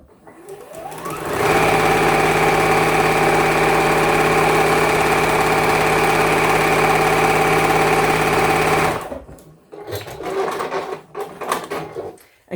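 A sewing machine runs in one long, steady, close burst while stitching Christmas tree quilt squares together, then stops and is followed by lighter handling clatter.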